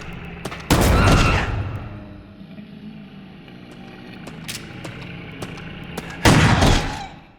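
Two loud bursts of rapid gunfire in the Crow Country video game, the first early and the second near the end, with quieter game ambience and a few faint clicks between them.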